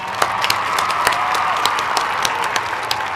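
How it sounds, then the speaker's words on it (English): A live audience at a Big House night-in show claps in a steady round of applause, dense overlapping hand claps with sharper individual claps standing out, continuous and close throughout. "Round of applause for Percy Copley."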